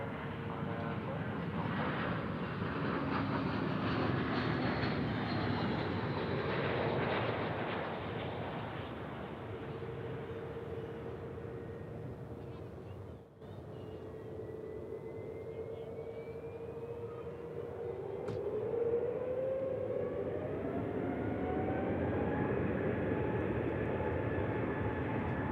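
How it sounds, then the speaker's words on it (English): A Frontier Airbus A320 takes off at Dallas/Fort Worth airport, a broad roaring engine noise swelling and holding, with rising whine tones later as it climbs away. "Frontiers A320 taking off here"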